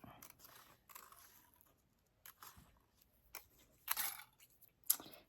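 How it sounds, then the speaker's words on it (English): Scissors fussy cut paper packages for a Stampin' Up! Christmas card: a few quiet, close snips and crisp paper rustles, separated by pauses. "I'm just going to fussy cut these out."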